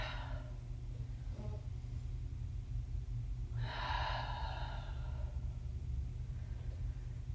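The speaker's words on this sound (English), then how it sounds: "And then breathe here." Deep audible breaths taken while holding a seated spinal twist in a yoga flow, two or three soft gasping inhales and exhales over a steady low room rumble, close and unhurried.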